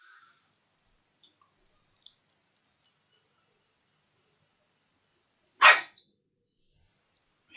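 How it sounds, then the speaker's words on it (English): A dog barks once, a single sharp bark near the middle, with near-silence around it and only a few faint clicks elsewhere. "Dog barking, this is off."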